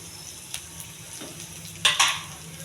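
Chana dal and curry leaves frying in hot oil, a quiet steady sizzle with a few sharp spatters and stirring scrapes near the end.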